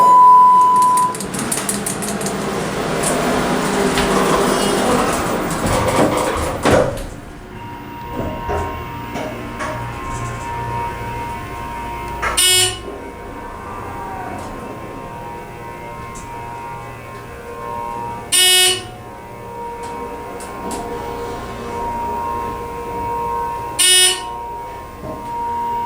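A ThyssenKrupp hydraulic elevator motor at a Staybridge Suites near Sacramento airport runs loud and close for several seconds, then cuts off, leaving a quieter hum broken by three brief, sharp buzzing bursts.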